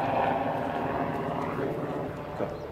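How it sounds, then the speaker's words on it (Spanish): A helicopter passes overhead, a continuous broad low drone with faint rhythmic rotor chop, steady and moderately loud from above. "nunca pasó un helicóptero por acá. ¿Está pasando? ¿Este helicóptero de qué?"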